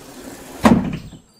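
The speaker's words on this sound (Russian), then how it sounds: "Двери закрываются." Cartoon bus doors slide shut in a children's animated series about vehicles, a single short whooshing thud near the middle, loud and close, with no talking.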